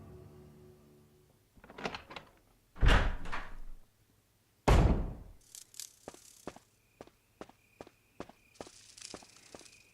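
Footsteps and a door in the Resident Evil HD Remaster video game: a few paces, two heavy door thuds, then a quick series of sharp regular steps, all close and without talk.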